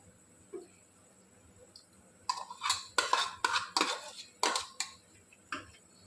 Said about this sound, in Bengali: এবার আমি একে একে চিকেন ভাজাগুলো এর মধ্যে দিয়ে দেবো।